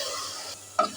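Lentils (dal) are tipped into a hot pan of oil tempered with onion, coriander, turmeric, chili powder and ginger-garlic paste, giving a short, close burst of sizzle over a steady frying hiss.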